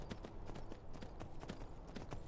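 Hooves of the horse Shadowmere clip-clopping at a steady trotting rhythm in a video game, regular clean hoof strikes, faint and even for a couple of seconds with no voices.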